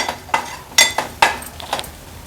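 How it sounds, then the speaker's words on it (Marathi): A paste of roasted grated coconut, garlic and ginger, ground without water, is stirred with turmeric and spices in a pan, giving several sharp, close spatula scrapes and clinks at an uneven pace. "आता वाटण पण हळद मसाल्यासोबतच छान परतून घेऊया"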